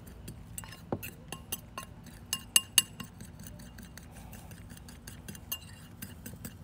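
Metal spoon clinking and scraping in a bowl while curried leg of lamb ingredients are mixed, a run of quiet light taps with a few sharper chinks in the middle, close and soft, with no talk.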